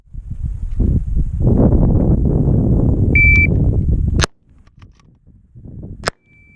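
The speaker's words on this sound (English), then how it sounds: "Running a bolt gun like you would a semi-auto is absolutely freaking brutal." Bolt-action scout rifle fired in a timed drill at 50-yard and 15-yard targets outdoors: a shot timer beep, then two sharp, loud cracks a couple of seconds apart over wind rumble and handling noise.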